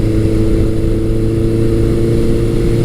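A 1982 Suzuki GS1100G motorcycle engine with a Delcovic exhaust pipe and one-size-up main and pilot jets roars loudly and steadily while accelerating, its deep rumble held constant throughout with no talking.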